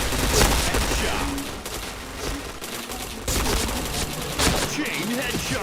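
Rapid bursts of gunfire in a mobile shooter game, dense and loud throughout, with a voice talking over the shots.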